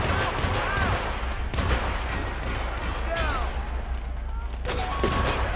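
Gunfire from the Hitman video game rattles in a dense, continuous volley of rapid shots. Voices are heard faintly underneath.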